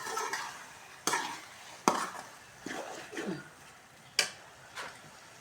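Spice masala is stir-fried in a pan for aloo karela, potatoes with bitter gourd. A spatula scrapes and stirs in separate strokes over a soft sizzle, fairly quiet and close, with no speech.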